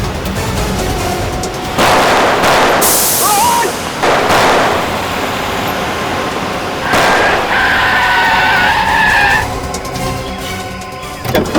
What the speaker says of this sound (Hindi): चला दे गाड़ी दोनों में।